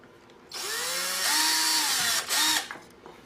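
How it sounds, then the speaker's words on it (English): Power drill boring a small pilot hole, one continuous whirring burst of about two seconds that dips briefly, then a short second burst before it winds down; close and loud, with no talking. "I'm just going to stick a little pilot hole down in here."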